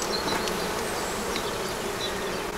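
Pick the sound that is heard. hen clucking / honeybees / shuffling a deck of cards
honeybees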